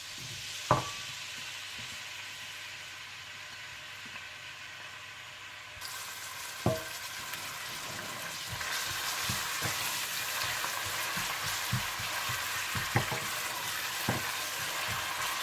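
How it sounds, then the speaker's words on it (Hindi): Onions frying in hot oil for an aloo palak masala, a steady hiss of sizzling that grows fuller partway through, punctuated by occasional spoon taps and stirring scrapes. "और दूसरी तरफ इसका मसाला तैयार करने के लिए आप तेल गरम कर लें और इसमें प्याज ब्राउन कर लें।"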